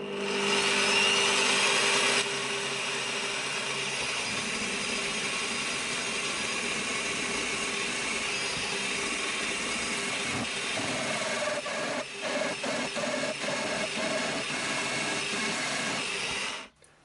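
Drilling a starter hole with a centering bit in wood, working on a Bosch POF 1400 router installation into a Bosch PTS 10 table saw; a steady, loud machine whir runs throughout, with a few sharper irregular bursts near the end.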